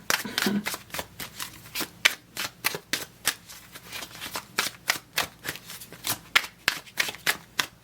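Playing cards are shuffled and laid out in a quick series of crisp riffles and soft slaps, evenly spaced and close to the microphone, with no talking.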